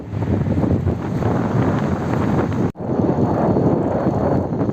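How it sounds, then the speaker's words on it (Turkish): Steady wind roars and buffets the microphone with a broad rushing noise on a lakeside road, briefly dropping out for a moment before continuing. "rüzgar esiyor olabilir."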